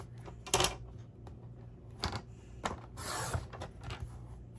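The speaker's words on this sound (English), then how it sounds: "I'm gonna take my scissors or my trimmer and I'm gonna trim this off" Paper trimmer cutting cardstock for a handmade Christmas card: a few quiet, sharp mechanical clicks and scraping slides from the blade, spaced irregularly, with no voices.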